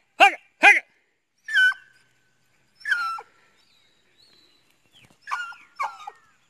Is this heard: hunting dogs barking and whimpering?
yes